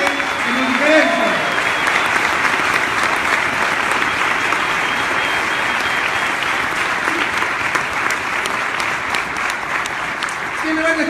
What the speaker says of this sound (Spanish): Por favor, fortísimo aplauso.